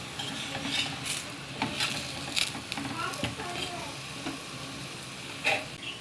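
Onion paratha cooking in ghee on a tawa griddle, a faint steady sizzle with repeated scraping and turning sounds against the metal, a voice talking over it.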